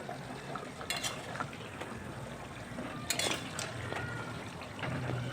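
Paneer curry bubbling and simmering in a pot, a soft steady sizzle and gurgle with a few sharp clinks of a spoon against metal, quiet and close.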